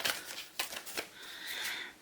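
Prompt cards being shuffled by hand for a Bookgammon board game, giving a few quick crisp riffling bursts and a longer soft papery flutter, near and fairly quiet with no talk.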